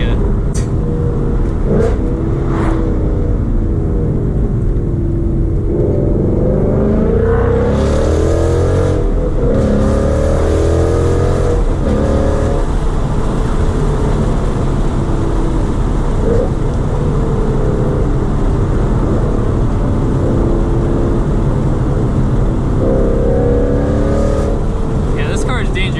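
A Ford Mustang GT 5.0 with a loud aftermarket exhaust drones steadily from inside the cabin while driving, rising in a few short throttle surges, with voices talking over the engine throughout.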